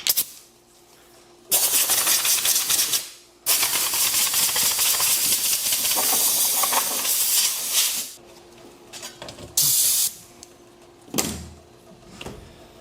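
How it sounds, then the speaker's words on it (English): Compressed air blasts off a degreased Ford Super Duty truck part in several loud hissing bursts of varying length, separated by short pauses and quieter shop hum. "I'm gonna hit it with some compressed air just to make sure."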